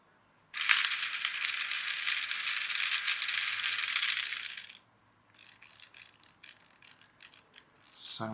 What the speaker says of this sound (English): Sounds a little bit crackly, as if there's a broken gear in there.